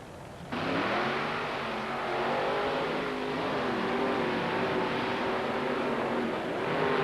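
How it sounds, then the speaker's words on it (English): Monster truck spinning its wheels at the starting line of a racing event, a loud sustained engine roar that starts abruptly and holds steady with slight swells, no voices. "And Micro Machine, Kurt Fisher, spinning the wheels right at the starting line"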